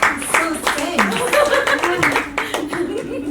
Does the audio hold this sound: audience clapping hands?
yes